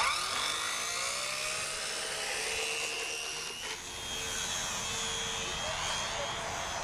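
A model airplane engine whines continuously at high pitch, a steady buzzing drone outdoors in the rain with a slight dip in the middle, then holding strong.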